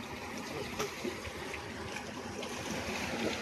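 Fast, strong water current in the Sundarbans rushing steadily with a dense, even wash of turbulent flow, close by and continuous with no voices.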